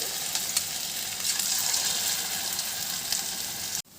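Sweet bottle-gourd fritters sizzle steadily in hot oil, a soft, continuous crackle close to the pan that stops abruptly near the end.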